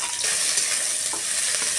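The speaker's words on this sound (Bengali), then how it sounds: "আমি ফোড়ন দেব, সর্ষের তেল দিলাম, গোটা জিরে, একটা শুকনো লঙ্কা, একটা তেজপাতা দিলাম" Whole cumin, a dry red chilli, a bay leaf and garlic fry in hot mustard oil, giving a close, steady sizzling hiss with light stirring throughout the short stretch.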